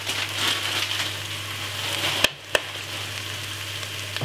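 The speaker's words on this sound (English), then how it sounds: "all I'm going to do is pour this vegetable inside of the frying pan" Vegetables stir frying in a frying pan give a steady broadband sizzle with a low hum beneath, broken by two sharp clanks near the middle, close and fairly loud, with no talking.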